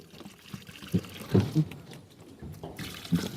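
Meat for a Kerala-style beef curry is being washed by hand in water, with soft intermittent splashes and sloshing, close and fairly quiet.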